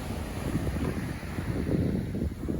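Wind gusts across the microphone on the beach at Ormond Beach, Florida, a steady low rumbling buffet with faint surf beneath, fairly quiet and continuous with no voices.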